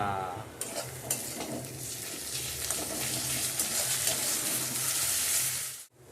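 Onions frying in a pan with ginger and garlic paste and being stirred, a continuous close sizzle with scraping stir strokes that cuts off abruptly near the end.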